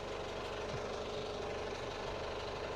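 Inboard engine of a project boat running in forward gear, a steady low mechanical drone with a faint knocking pulse, continuous and even at moderate distance, no voices.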